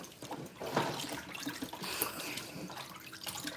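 Tap water runs steadily over goat meat being rinsed clean in a kitchen sink, a continuous splashing wash with small drips and clinks, close and moderately loud, with no talking.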